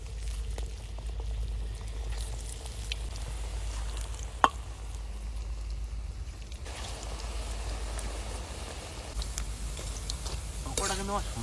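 Pakoras frying in hot oil give a steady, faint, low sizzling bubble that runs throughout, with a sharp tap and a few clinks near the end.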